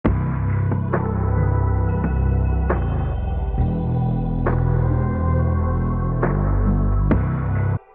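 A dark synth bass with effects, reduced stereo separation and a percussion loop, programmed in FL Studio, throbs steadily for about eight seconds, with sharp percussive hits landing roughly every second and a sustained low drone underneath.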